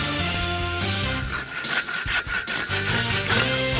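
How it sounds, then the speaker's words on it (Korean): Rhythmic back-and-forth rasping of a hand saw cutting through solid wood, close and continuous for a few seconds over a music bed. "이번엔 능숙한 톱질 실력을 선보이는데요."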